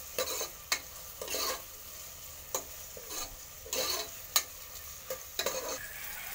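Ginger garlic paste sizzles in hot oil for a mutton curry, with a steady frying hiss broken by repeated sharp scrapes and clinks of a spoon stirring the pan at an uneven rhythm, close and moderately loud, no talking.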